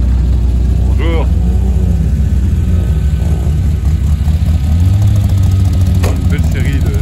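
A rally car engine rumbles at the Rallye des Vignes 2025, a steady mid-pitched drone that swells slightly as it passes, mixed with crowd noise and bits of talk nearby.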